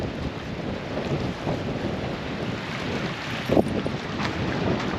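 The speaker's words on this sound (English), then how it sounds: "It's just windy, like real windy." Strong wind buffets the microphone at Emu Point, a seaside spot with a cafe and grassed area, producing a steady loud rumble with gusty surges and no talking.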